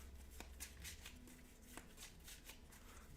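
Finspan board game cards shuffled by hand on a table, a soft papery riffle and shuffling with repeated light snaps and flutters, quiet and close, with no voices.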